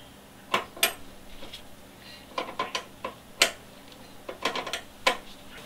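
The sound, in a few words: 10mm flare nut wrench loosening a brake line connection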